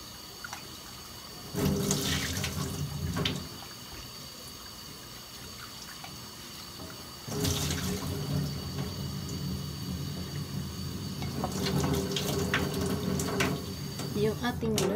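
Raw liver for a garlic-chive liver dish is rinsed under a running kitchen tap: loud bursts of splashing water, one short run followed by a longer continuous stream after a pause.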